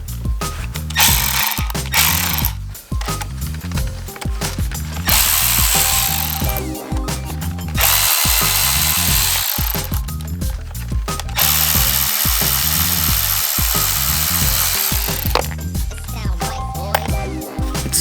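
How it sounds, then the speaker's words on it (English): A Milwaukee M12 12-volt cordless ratchet spins bolts out in repeated loud whirring bursts, each broken by short pauses and sharp clicks, and it runs close and on its own without talk. "Pulling all these, it's with the Milwaukee ratchet"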